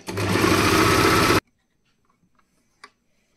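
An Usha Janome sewing machine stitches a zigzag in one loud, close burst of rapid whirring for just over a second, then stops, leaving near silence with a couple of small clicks.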